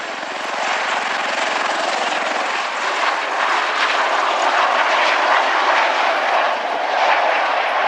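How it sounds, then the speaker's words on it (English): A USMC Osprey tiltrotor aircraft at RIAT 2015, fresh in from Mildenhall, roars close by with a steady, loud rotor and engine drone that holds from start to end during its landing and short rolling takeoff. "the aircraft, which was flown straight in from Mildenhall, has now landed on, ready to get airborne again in a very short rolling takeoff"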